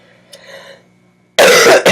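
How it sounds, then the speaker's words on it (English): A single close, loud cough, harsh and abrupt, bursts out after a moment of near silence with only faint background sound. "Sorry, I have a cough."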